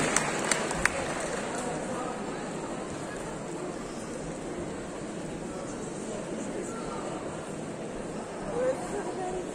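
Audience applause at a cosplay contest in Nantes, greeting a League of Legends cosplayer: steady dense clapping from a large crowd, heard from a distance, continuing evenly throughout.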